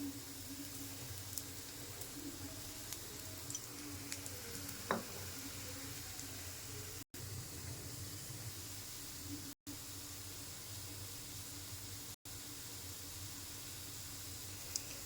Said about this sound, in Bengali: কচুর বড়ায় টান টান করে ভাজতে হবে